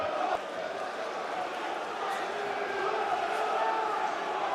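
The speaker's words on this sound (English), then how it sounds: "Crowd noise really building up." A boxing arena crowd at a professional fight keeps up a dense, steady roar of cheering and shouting, sustained at full volume throughout.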